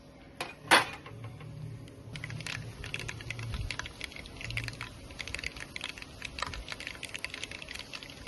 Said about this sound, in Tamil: கடுகு வெந்தயம் நல்லா பொரியணும்